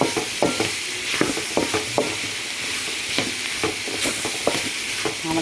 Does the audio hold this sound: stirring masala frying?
yes